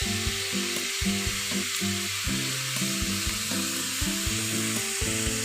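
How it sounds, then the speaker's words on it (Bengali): Ginger garlic paste fries in a pan, a constant close hissing sizzle with light scraping and knocking of a stirring spoon underneath. "এটাকে আমি খুব ভালোভাবে ভেজে নেব"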